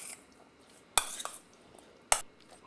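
A spoon mixes honey yogurt dressing into a kale salad, giving two sharp metallic clinks against a bowl amid soft scraping and stirring, close and otherwise quiet.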